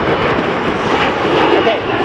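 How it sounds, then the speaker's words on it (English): An airplane flying overhead at a construction site for a water recycling facility in Los Angeles, a continuous loud engine roar and wind-like rush, with no clear break and no talking. "Oh, there's another plane."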